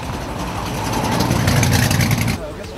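McLaren F1 engine running, a steady loud rumble that swells slightly toward the end before dropping off, heard from close by.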